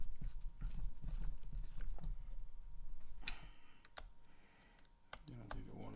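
Small screws being tightened on the servo of a Traxxas TRX4 RC rock crawler, heard as light clicks and scraping taps from a driver at close range, with a faint hum underneath.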